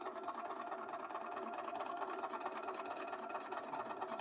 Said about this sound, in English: you guys can hear my sewing machine now because I turned the volume up.